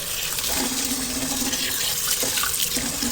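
Water pours and splashes steadily as rice is washed in a wok, a close, continuous running-tap rush with small sloshing swirls throughout.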